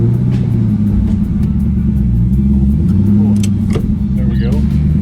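A 2000 Ford Mustang Cobra R with Bassani side exhaust drives with its windows down, its deep engine rumble steady and loud throughout, while voices talk over it.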